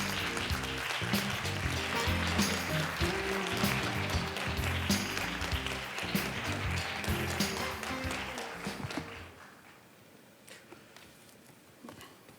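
Audience applause at a youth video contest awards ceremony, dense clapping that runs steadily for about nine seconds and then stops, leaving a quiet room.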